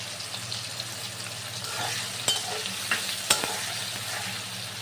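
Spices, raisins, tomato and ginger paste sizzle and fry in a pan while being stirred for a vegetarian jackfruit curry, steady close sizzling with a few sharp scrape and clink accents from the stirring.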